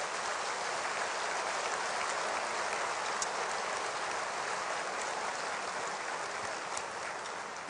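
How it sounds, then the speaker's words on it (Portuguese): Auditorium audience applauding at a church gathering, a loud, even hiss of many hands clapping together, sustained and unbroken like heavy rain, with no voices over it. "eu queria pedir que este auditório tão seleto oferecesse um aplauso a"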